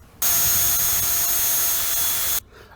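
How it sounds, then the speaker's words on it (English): A power drill whines at a steady high pitch for about two seconds as it bores a hole into a wood block, starting and stopping abruptly, close and loud. "find a block of wood like I'm going to do, drill a hole and see how the screw fits in it."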